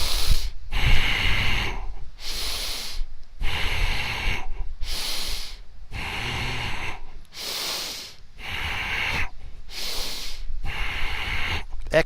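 Deep rhythmic breaths during a seated desk workout, about seven loud airy inhale-exhale cycles spaced roughly every second and a half, close and steady with no talking.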